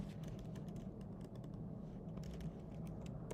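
Rapid clicking of keys on a computer keyboard while code is typed, a quiet, steady patter of keystrokes with brief pauses, no talk.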